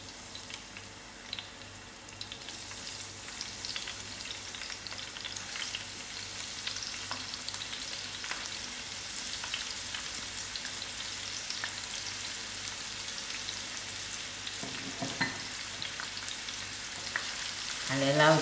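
Onions frying in about half a cup of hot oil in a pot, a steady soft sizzle running throughout with light stirring clicks, no talking.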